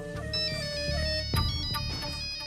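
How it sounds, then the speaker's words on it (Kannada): A phone ringtone plays a bright, steady electronic melody of repeating tones, clear and fairly near, with a few soft knocks over it and no talk. "ಮತ್ತೆ ಅವ್ರದ್ದೇ ಫೋನು ಅನ್ಸತ್ತೆ"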